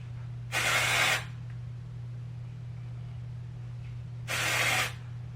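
Dry shampoo from an aerosol can sprays onto hair roots in two separate hissing bursts, each about half a second long, close and steady, with a low background hum and no speech.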